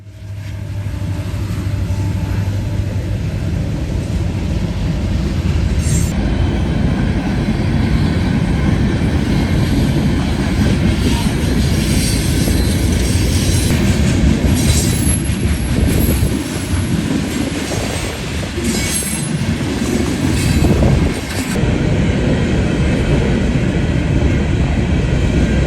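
A Norfolk Southern high-hood locomotive rolls past on the Dayton District line toward a rail yard, producing a loud, continuous rumble of engine and wheels that holds steady for the whole pass, with faint high metallic squeals partway through.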